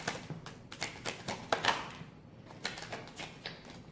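Tarot or oracle cards being shuffled by hand, a quiet series of soft riffling, slapping bursts in an uneven rhythm, close by with no talking.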